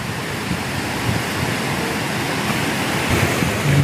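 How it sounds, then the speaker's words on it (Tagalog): During Typhoon Uwan in Ligao, Albay, howling wind and pouring rain make an unbroken, loud, hissing roar close to the microphone, with no talk. "lakas ng hangin at ulan."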